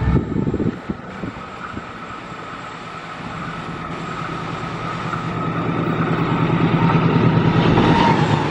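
The Taksaka passenger train bound from Gambir to Yogyakarta approaches on the Wates–Sentolo section, a steady rail rumble and rhythmic wheel clatter swelling louder as it nears at high speed.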